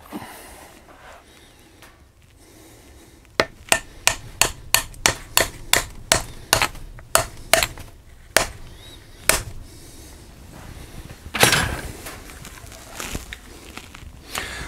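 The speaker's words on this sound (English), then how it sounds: "I have a little piece of wood dowel that I'm going to use to tap it" Sharp, evenly spaced taps of a small wooden dowel striking the spindle of a Grizzly G0781 mill during a gear upgrade, about a dozen close, loud knocks in quick succession, then a few slower taps and a louder scrape-like knock near the end.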